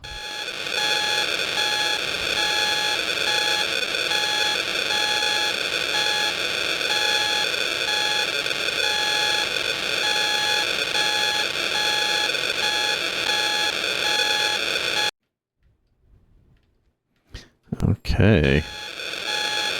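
Continuous electronic beeping from the Commodore 64 game Project: Space Station, a steady repeating tone pattern that runs loud and unbroken, then cuts off abruptly, followed by near silence, a few clicks and a brief spoken word.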